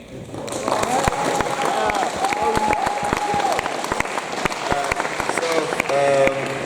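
Scattered claps and cheers from a crowd at a youth sports award ceremony, with voices and chatter running throughout and individual sharp claps standing out against the murmur.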